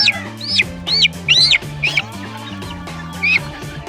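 Chicks cheep in high, rising chirps repeated close by, while someone talks steadily underneath.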